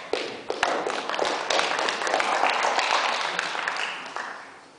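Audience applause at a spring 2010 domestic policy debate: a dense, steady wash of clapping that swells after a few scattered taps and fades gradually toward the end.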